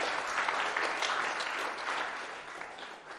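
A church congregation applauds during a weekend fasting and prayer service, a dense, steady wash of many hands clapping at once, loud and close, holding level before easing slightly near the end.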